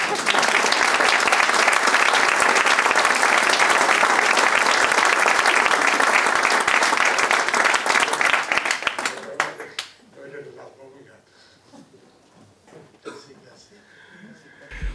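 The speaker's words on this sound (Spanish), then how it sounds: "se merece casi otro aplauso" An audience at a book presentation in a town hall breaks into loud, dense applause that holds steady for about nine seconds, then thins out into scattered claps and fades to near quiet.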